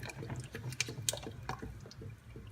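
Heavy cream poured and whisked into a butter-and-flour roux in a pot for smoked mac and cheese, giving soft liquid splashing and dripping with scattered clinks, steady and close.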